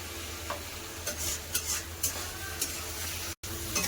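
Potatoes and spice masala, with onion and a little added salt, are sautéed in a pan for a fish curry. Repeated scraping strokes of a spoon over a quiet, continuous sizzle, with one abrupt momentary dropout.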